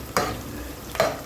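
Onions, garlic and chili sauté in a pan for chicken feet adobo; two quick spatula strokes scrape across the pan over a low, steady sizzle.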